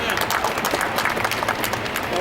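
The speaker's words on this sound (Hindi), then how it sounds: "विधायक जी के लिए बहुत बहुत जोरदार तालियां।" An audience at a children's literature society event in Khatima gives the MLA a hearty round of applause, continuous clapping with crowd murmur mixed in.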